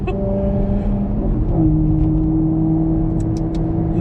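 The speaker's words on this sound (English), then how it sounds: "I don't know whether you can hear the exhaust" Close and loud, a Maserati MC Stradale exhaust drones at a steady throttle, then its note drops as the revs shift, with a few brief higher crackles near the end and no talking.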